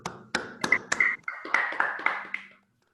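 Several people applaud over microphones at the end of an online physics talk, a few separate claps quickly building into a short, uneven burst of clapping about two and a half seconds long that then stops dead, with no talking over it.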